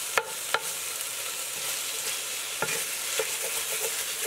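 Sausage browns in oil in a pot, giving a steady close sizzle broken by several sharp clicks of stirring, with one brief spoken word near the start.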